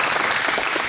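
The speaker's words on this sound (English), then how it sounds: "we can clap for that" Audience at a veterans fair in a wartime museum breaks into dense, loud applause, a continuous wash of clapping filling the brief moment.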